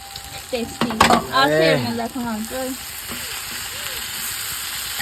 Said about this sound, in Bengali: এই যে এখন একটু এটাকে গরম করতে হবে সুন্দর করে, আর একটু ভাজা ভাজা করে নামিয়ে দেবো